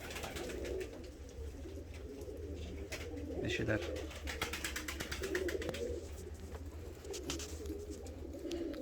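Feather-footed fancy pigeons coo in repeated soft, throaty calls close by, with a person speaking briefly over them.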